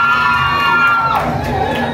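A wedding reception crowd at Status Hall in Newcastle cheers, shouts and whoops loudly all at once, a dense continuous roar of many voices close by.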